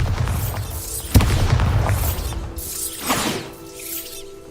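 A Bombarda spell in the video game Hogwarts Legacy sets off a blast: a sharp boom followed by rumbling debris and a second, softer burst with crackling magical effects.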